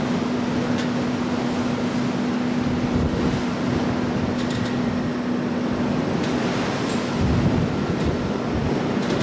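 Broadband wash of waves and wind on the Irish Sea from an open ferry deck, with a steady low engine hum from the ship running underneath, continuous and fairly loud throughout with no voices.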